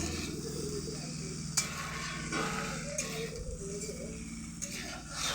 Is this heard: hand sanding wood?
no